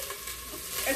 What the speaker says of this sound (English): I'm going to deglaze the pan a little bit